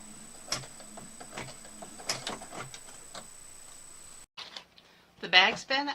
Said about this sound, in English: put the foot down, and start stitching